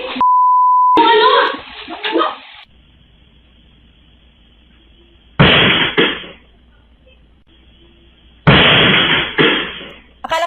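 Two loud, sharp firecracker bangs a few seconds apart, each a broad crackling blast that fades quickly, with a brief tone and some chatter at the start.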